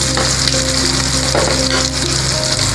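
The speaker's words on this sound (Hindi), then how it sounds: "2 मिनट हम इसे फ्राई करेंगे तेल में।" Long-sliced onions fry in oil with a loud, continuous close-up sizzle and crackle that stays steady throughout, broken only by soft stirring.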